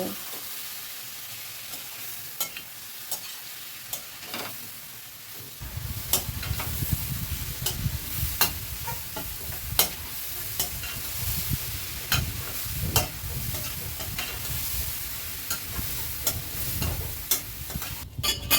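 Dal tadka masala stirred and fried in a pan: quiet at first, then a steady, close sizzle with frequent scraping and clicking strokes of the spoon, heard alone.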